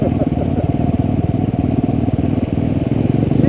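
Motorcycle riding through the Paluxy River crossing, a steady broadband engine roar with splashing clatter that stays loud and close throughout.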